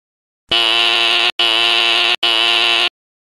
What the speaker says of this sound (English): I'm going to pull fire alarm switch.